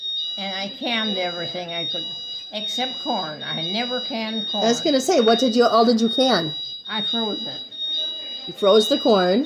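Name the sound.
repeated alarm beep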